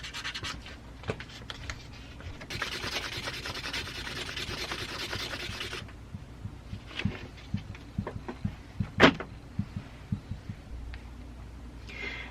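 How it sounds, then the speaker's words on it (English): Chromed metal being sanded with 1000 grit sandpaper, quiet rasping and scraping strokes with a brief louder hissing stretch, then a run of irregular short scratches and taps. "I'll use this 1000 grit sandpaper to take that off"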